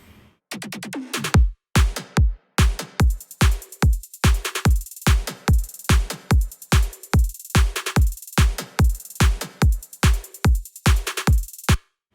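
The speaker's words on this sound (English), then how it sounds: "So it's a simple kick, snare, and then the snare that plays offbeat, and this tom loop" A punchy electronic drum loop with a deep kick, crisp snare and tom hits in a steady repeating pattern, loud and unaccompanied.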